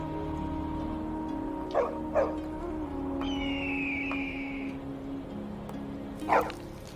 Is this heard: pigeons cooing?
no